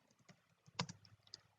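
Quiet typing on a computer keyboard while entering CSS code, a brief run of soft key clicks with one sharper keystroke in the middle, close and faint, no talking.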